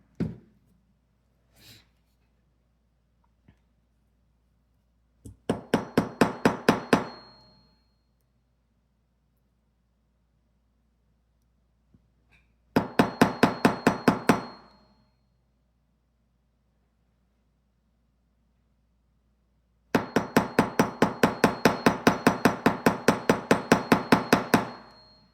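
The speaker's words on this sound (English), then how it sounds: "So let's go ahead and hammer." Wire being hammered into a square spiral: three runs of rapid, even, light metallic taps, each lasting about two to five seconds, separated by quiet gaps with a few isolated single taps.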